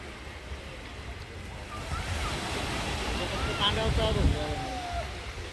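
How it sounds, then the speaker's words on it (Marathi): Sea waves wash up along the shore at Malvan near a fishing boat landing, a steady broadband surf roar with wind noise, building slightly toward the end. "आता हे सगळे लाटे येतात वरती बघा. आज पाणी भरपूर हा."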